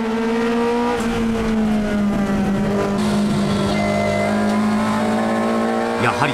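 Toyota AE86 race cars accelerate hard on the final lap of a close circuit race. The engines roar loud and close, with high revs climbing and shifting in pitch throughout.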